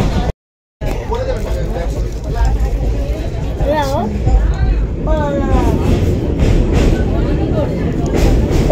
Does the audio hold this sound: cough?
no